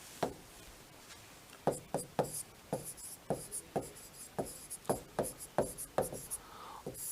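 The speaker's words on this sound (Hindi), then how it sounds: "तो अगली परिभाषा लिखेंगे हम दोस्तों क्या?" Chalk or pen writing on a board during a Hindi poetry-meter lesson, heard as a series of distinct tapping strokes in a steady rhythm, close and moderately loud, with no voice.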